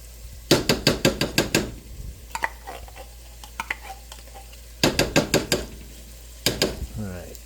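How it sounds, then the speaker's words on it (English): Spoon scraping and stirring tomato paste through the mix in a cooking pan for chicken parm, in two loud bursts of quick rhythmic strokes with quieter clinks between. "I like to stir that tomato paste in with everything and let it cook down a little bit."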